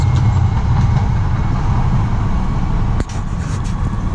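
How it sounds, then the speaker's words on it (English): A tram rumbles past close by, a steady heavy low roar with wheel noise, easing slightly near the end. "There goes the tram."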